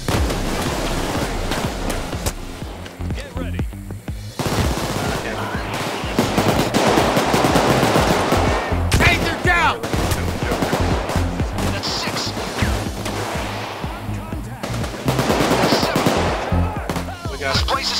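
Dense video-game gunfire during a Payday 2 police assault, with rapid machine-gun bursts and single shots layered in loud, overlapping volleys throughout, and a voice speaking intermittently underneath.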